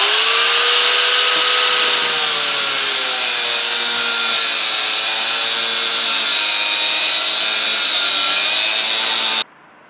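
A power saw cuts through a forged Damascus steel billet, giving a loud, steady, whining grind with shifting tones that runs for about nine and a half seconds and then stops abruptly.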